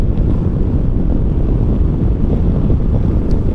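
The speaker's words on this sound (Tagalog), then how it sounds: "Lakas ng hangin." Strong wind roaring and buffeting a microphone on a Kymco Xciting VS 400 motorcycle at expressway speed, a dense, steady low rumble that never lets up, with no voices.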